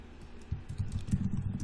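Rapid typing on a computer keyboard, a close run of soft clicking keystrokes that grows busier after a brief lighter start, with no talking.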